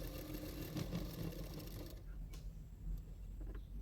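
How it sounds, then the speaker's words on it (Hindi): A sewing machine stitching a blouse for fitting whirs faintly for about two seconds, then drops to a quieter hum with a few small clicks. "उसके बाद मैं फिटिंग्स के लिए सिलाई कर रही हूँ।"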